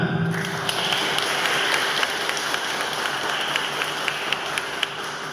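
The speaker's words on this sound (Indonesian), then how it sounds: "Mari beri tepuk tangan." Guests applauding at a Buddhist wedding ceremony, a continuous roomful of clapping that holds at an even level with scattered sharper claps standing out.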